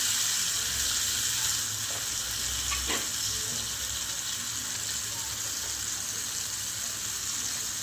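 Finely ground green banana peel paste frying in a pan, a steady soft sizzle near at hand with a single brief scrape of stirring early on and no talking.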